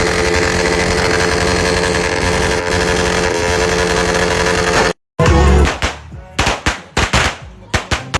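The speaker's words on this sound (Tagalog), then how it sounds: "paparinig ko nga pala sa yung mga motor ng mga tropa ko dito" Motorcycles belonging to a group of friends rev loudly at a New Year gathering, first as a continuous roar, then after a short break in sharp bursts of throttle that sound like rapid popping.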